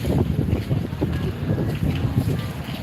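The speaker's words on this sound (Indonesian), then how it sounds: "angin kencangnya" Strong wind buffets an outdoor microphone in a steady, loud rumble of low gusts throughout, with no clear voices.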